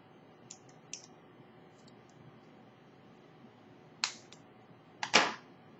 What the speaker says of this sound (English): I will cut this wire